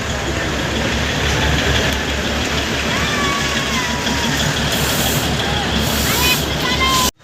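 A train rumbles steadily nearby, a loud continuous roar of wheels and engine that fills the whole stretch before cutting off abruptly.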